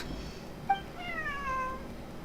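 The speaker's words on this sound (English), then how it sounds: "This is my friend's cat." A cat in the video game Genshin Impact gives a short chirp, then a drawn-out, wavering meow over a soft, quiet ambient background.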